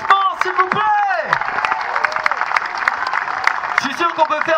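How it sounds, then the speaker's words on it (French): A crowd at the prize-giving of the 46th 24-hour sailing race in Trégastel applauds for third place, a busy run of clapping with cheers and whoops rising above it and voices in the mix. "Applaudissements, s'il vous plaît."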